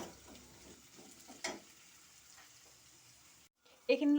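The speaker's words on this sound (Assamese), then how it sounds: "মই এতিয়া পিঁয়াজখিনি ভাজি ল'লোঁ ভালকৈ" Onions frying in a pan, a soft steady sizzle under clatter and stirring scrapes, with one louder scrape midway, a brief silence near the end, then a sharp clink.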